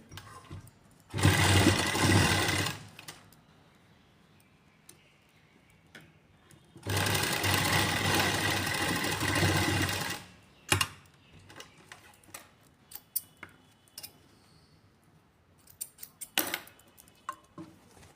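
A sewing machine stitches over folded lining at an armhole in two loud, close bursts of rapid mechanical whirring, each a couple of seconds long, separated by quiet handling clicks and faint fabric rustles.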